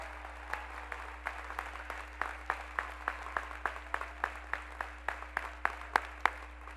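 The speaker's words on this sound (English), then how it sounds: "Let's give them a round of applause." Scattered hands clapping at a brisk, steady pace for several seconds at a high school graduation ceremony, moderately close, with a constant low hum underneath and no voices.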